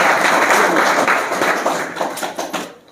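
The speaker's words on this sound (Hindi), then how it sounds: "जोरदार ताली के साथ" A quiz-show audience gives a schoolgirl contestant a loud, dense round of clapping, steady for about two seconds before tapering off at the end.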